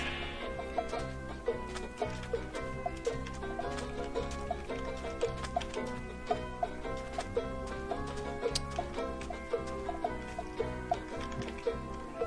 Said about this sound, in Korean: 어, 닭이다.